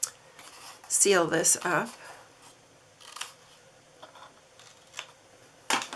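Scissors snip into paper while a Valentine's Day gift box is made, a few short crisp cuts scattered through the clip, with a person talking over part of it.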